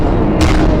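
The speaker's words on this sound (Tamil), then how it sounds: "இப்போ உலகமே அழிஞ்சிச்சு கைஸ். செம்மையாக வெடிச்சிருச்சு." A planet explodes in the game Solar Smash, a loud, dense, rumbling boom with a sharp burst of noise partway through, filling the whole short moment with no talk.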